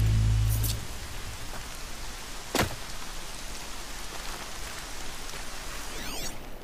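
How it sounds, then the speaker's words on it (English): Steady rain falls in the Horizon Zero Dawn video game, a dense, even hiss of drops that continues through the whole stretch with one brief brighter splash partway through. "More rain."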